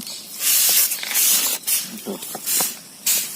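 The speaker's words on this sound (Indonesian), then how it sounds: "Jadi penyemprotannya satu-satu seperti ini" Pesticide sprayed by hand onto young corn shoots against fall armyworm, a series of short hissing bursts from a sprayer nozzle, close and fairly loud, with brief pauses between each plant and some quiet talk in between.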